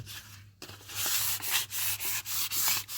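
Rough, rhythmic scraping of sandpaper rubbed back and forth by hand over a Renault Clio's leather steering wheel, close up, in steady strokes with brief pauses between.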